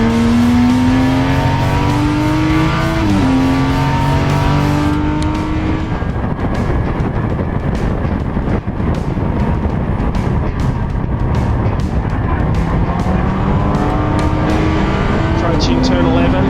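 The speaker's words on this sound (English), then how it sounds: "the little Spitfire, a very pretty little car" A small Triumph Spitfire racing car roars past on a circuit during an all-Triumph race, its engine loud and continuous, revving and shifting pitch as it accelerates and passes, with other cars close by.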